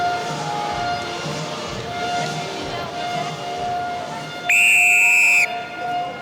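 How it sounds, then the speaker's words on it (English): A referee's whistle blasts once, loud and shrill, to start a women's rugby sevens match in Clermont-Ferrand, cutting through steady stadium crowd noise for about a second. "So the loud blast of the whistle from Amy Barrett from the United States."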